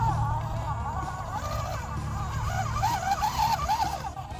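An HPI Venture Hilux 1:18 scale RC rock crawler grinds over rocks, its small electric motor whining and rising and falling in pitch as it climbs, with voices and background noise around it.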